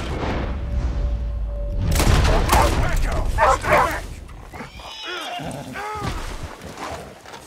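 Horse in the Red Dead Redemption 2 video game, with a short whinny near the end after loud game sounds and a thump; someone shouts over it.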